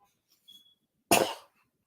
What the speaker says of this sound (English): I had to cough real bad